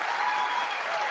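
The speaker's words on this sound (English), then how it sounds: "And applause is necessary." Audience applause at a political speech, a dense steady wash of clapping from a crowd, sustained and fairly loud, with no voices rising above it.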